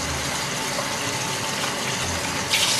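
Water gushes from a tap into a kitchen sink to fill it for soaking, a steady, close rushing flow that grows slightly louder near the end, with no talking.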